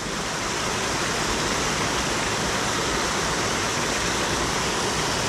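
A turbulent mountain stream beside a mountain lake rushes in a steady, loud, broadband roar that holds without a break throughout.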